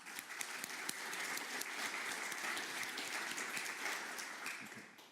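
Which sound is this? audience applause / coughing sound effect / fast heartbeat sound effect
audience applause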